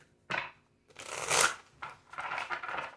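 Tarot cards being shuffled in three quick riffling bursts, close and crisp, with brief pauses between.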